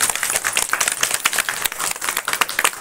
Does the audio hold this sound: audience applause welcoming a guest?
yes